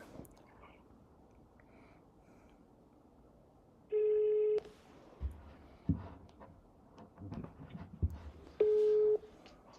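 A telephone line during a live-stream call sounds two long ringback tones a few seconds apart, with faint dialing clicks and quiet background voices around them.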